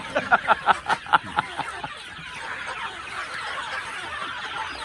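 A rapid burst of chicken clucking comes close up, about a dozen quick clucks, then fades into quieter background noise.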